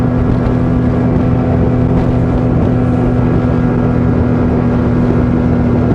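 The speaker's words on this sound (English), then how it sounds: "if you want to go full speed, you just throttle all the way down and trim it until you get that optimum speed without porpoising" A motorboat engine runs at speed on open water, a loud constant low drone with a steady hum and rushing wind and water noise, unbroken for the whole stretch with no voices.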